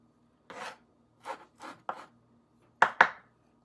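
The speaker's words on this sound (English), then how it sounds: "Chopping all this up." A knife chops fresh parsley on a cutting board while spanakopita filling is prepared, giving five crisp, close strokes in uneven rhythm with short pauses between them.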